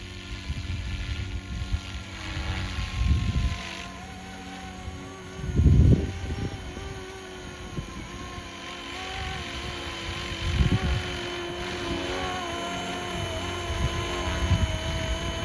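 A steady mechanical whine with a constant high tone and low rotor-like throbbing, swelling in brief louder bursts, from a Roban 470 Bell 206 JetRanger RC scale helicopter with a motor-driven tail rotor hovering nearby.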